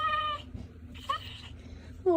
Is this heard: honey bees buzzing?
no